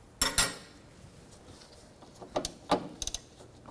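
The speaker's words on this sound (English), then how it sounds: "I could not get a socket in there, so I was using a ratchet wrench and just a regular wrench" Metallic clicks and clanks from a ratchet wrench and a regular wrench working a nut loose on the rear shock of a 2006-12 Toyota RAV4, with a couple of sharp bursts early and a cluster of quicker ticks near the end, fairly faint.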